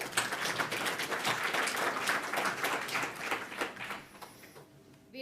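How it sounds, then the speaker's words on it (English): Audience applause at a graduation ceremony in Melbourne, a crowd clapping steadily and fairly loud for several seconds before thinning out and fading near the end. "Please honour them again with your applause."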